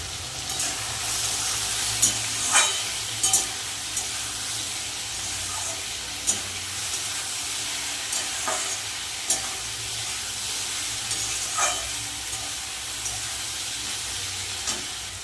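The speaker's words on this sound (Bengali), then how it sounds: "ভেজে নিচ্ছি হালকা লাল করে" Vegetables frying in a pan until lightly browned give a steady close sizzle, with occasional sharp clicks of stirring breaking through at irregular intervals.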